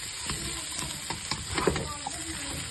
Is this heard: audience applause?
no